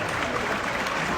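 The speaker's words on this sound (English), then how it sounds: "Clap that up for him." A crowd claps steadily in a dense, continuous wash of applause that holds at an even level throughout.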